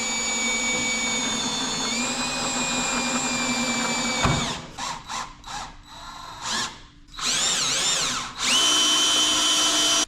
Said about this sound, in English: actual cups that I'm drilling through sit a little lower than the lip here